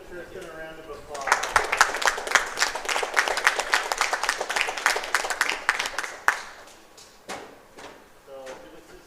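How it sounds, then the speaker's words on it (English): A small crowd at a youth bowling tournament claps for a bowler, a burst of quick, close-sounding claps lasting several seconds before it thins out into a few scattered claps and knocks. "let's give Tristan a round of applause"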